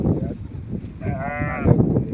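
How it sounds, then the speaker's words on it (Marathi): A ewe in open farmland bleats for her lamb, one long quavering cry in the middle standing clearly above a murmur of background noise. "मेंढी कशी तिच्या पिल्लासाठी ओरडती नाही का"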